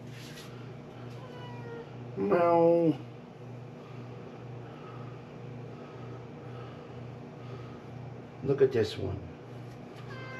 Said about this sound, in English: What you meowing about?